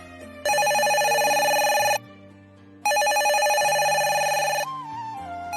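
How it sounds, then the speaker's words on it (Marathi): A telephone rings in two long, loud bursts separated by a short pause. The ringing is close and sits over faint, steady background tones, with no talking. "हा घ्या, तुमच्या भावाचाच फोन आहे"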